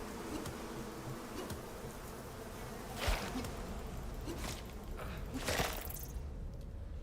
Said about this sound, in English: see, there's 2 swarms of bees over here.